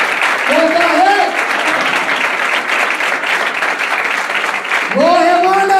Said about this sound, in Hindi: वो पास्टर मास के लिए जोरदार तालियां है